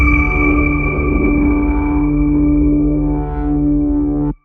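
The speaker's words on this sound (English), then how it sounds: "And we are going to reverse it. A little fade out. And then I'm also just going to smother it in some reverb." A reversed sample from the Native Instruments Hypha plugin, drenched in reverb, sustains as a loud, dense tonal drone with layered humming partials, dips slightly, then cuts off abruptly at the end.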